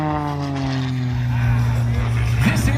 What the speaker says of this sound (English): Airplane capable of rolling more than a roll and a half each and every second as he now flies upside down